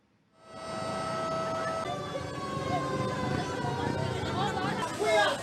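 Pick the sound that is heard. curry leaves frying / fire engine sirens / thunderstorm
fire engine sirens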